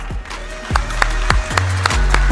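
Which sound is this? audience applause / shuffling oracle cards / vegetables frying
audience applause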